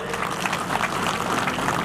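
A gathered crowd at a community event gives a brief, dense round of applause for the organizing committee, a continuous rush of many hands clapping with no talk over it.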